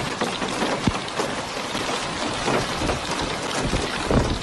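Heavy rain pours down during a storm in Yanbu, Saudi Arabia, a dense, loud, continuous hiss of falling water with scattered sharper drops and low rumbles, no voices.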